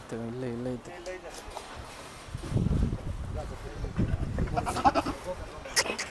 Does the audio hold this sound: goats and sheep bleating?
yes